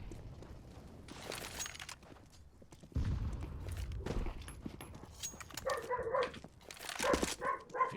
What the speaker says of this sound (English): my neighbor's dogs wanted to start barking